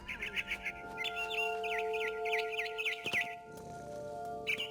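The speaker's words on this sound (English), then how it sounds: "Then I heard chirping outside my window. It was a barn swallow going back to her nest." A barn swallow in the video game What Remains of Edith Finch chirps in quick, bright twittering runs close by, repeating over a soft sustained musical tone.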